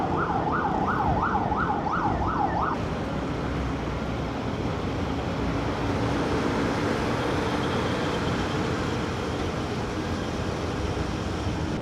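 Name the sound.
ambulance siren passing on the road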